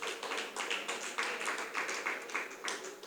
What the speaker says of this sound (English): Please give that a round of applause